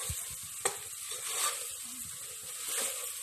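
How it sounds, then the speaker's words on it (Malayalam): Mutton curry masala with turmeric powder being stirred and fried in a pan, giving a soft steady sizzle with a few scraping strokes and a small clink, close and without talk. "നമുക്ക് നല്ലതായിട്ടൊന്ന് ഇളക്കി കൊടുക്കാം."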